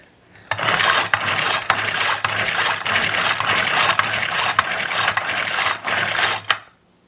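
A Troy-Bilt TB425CS string trimmer engine with a hard-pulling recoil starter, cranked in one long run of repeated ratcheting pulls that whir and clatter loudly and close up, without the engine catching, then stopping abruptly.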